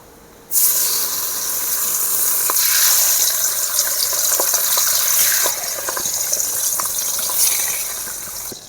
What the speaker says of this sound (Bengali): কি মাছগুলো এবারে আমি ভেজে নেব।